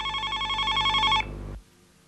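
A hospital telephone rings in a rapid electronic trill for just over a second, then cuts off abruptly into near silence.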